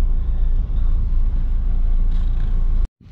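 A Hyundai Starex with a D4CB diesel engine, just repaired for low power, revs hard to about 4,000 RPM. The roar is loud, dense and close, holds steady for nearly three seconds, then cuts off abruptly.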